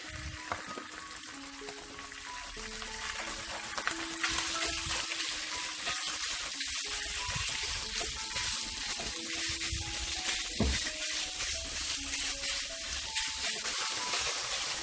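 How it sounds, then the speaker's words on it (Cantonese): Minced pork stir-fried in a wok with ginger, garlic and chili bean paste over raised heat, a steady dense sizzle with scattered crackles and light clatter running throughout, close and continuous. "可以開返大少少嘅火咧，爆香呢啲肉碎"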